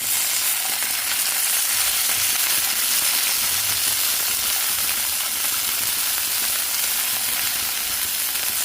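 Tomatoes and cherries fry in a lidded pan over a high gas flame, a loud, dense, unbroken sizzle and crackle that stays steady throughout with no talking.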